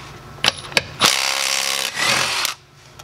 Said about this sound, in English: this thing can take a lug nut off